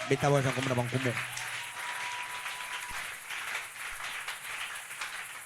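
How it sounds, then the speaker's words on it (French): A church congregation at a Wednesday service breaks into sustained applause and cheering, a dense crowd wash that follows a brief voice at the start. "Acclamons très fort le roi des rois."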